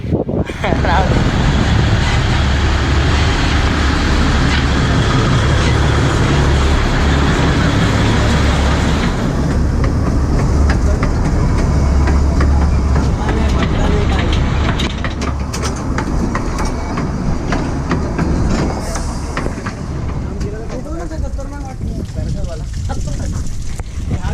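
An express train rumbles past loudly and continuously near Peb Fort, wheels clattering and wind buffeting the microphone, the roar easing slightly toward the end.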